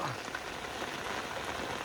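Steady rain falls outdoors, an even hiss of drops on surfaces running unbroken at moderate level throughout.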